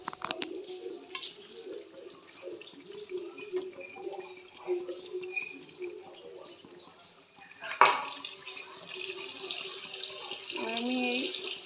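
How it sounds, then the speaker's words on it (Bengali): Running tap water splashes into a spice bowl as it is rinsed while cooking butter chicken, starting with a sharp gush midway and continuing as a steady trickle, with a person talking quietly beforehand. "আমি এই মশলার বাটিটা ধুয়ে একটু জল দিয়ে দিচ্ছি"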